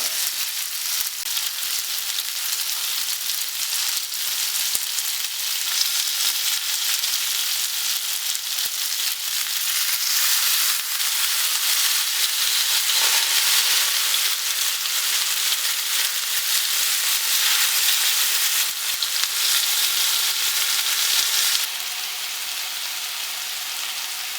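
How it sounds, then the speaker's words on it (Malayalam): Fish fried with coconut on a low flame in a Kerala kitchen crackles and sizzles steadily for a long stretch, a dense continuous hiss close by with no speech. "ചെറിയ തീയിൽ വെച്ച് വേണം മീൻ വറുത്തെടുക്കാൻ"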